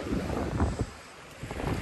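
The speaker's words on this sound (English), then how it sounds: "Hope this video is not too windy." Wind buffeting a microphone on the beach at Mexico Beach, low rumbling gusts in uneven bursts with a brief lull, no voices.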